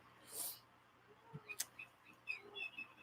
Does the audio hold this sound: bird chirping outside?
yes